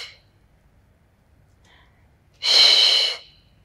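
A single sharp, forceful exhale through the mouth during a beginner Pilates workout, lasting about half a second, close and loud, preceded by faint short breaths in an otherwise quiet room.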